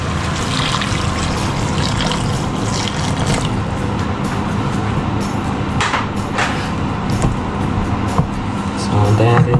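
Rice water poured into a pot of Filipino chicken adobo makes a continuous splashing trickle, loud and close, steady throughout with a brief stronger surge near the end.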